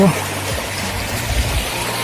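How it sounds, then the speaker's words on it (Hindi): A small waterfall trickles and splashes steadily over rocks nearby, a continuous flow with a murmuring voice faintly underneath. "क्या छोटे छोटे वाटरफॉल न दे रहा है देखी पार्थ"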